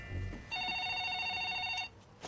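A telephone rings with a steady electronic trill for about a second and a half, clear and close, with quiet room noise before and after.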